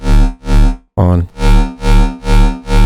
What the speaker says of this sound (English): This is a quick reverb. So once again, this is making it louder and adding reverb.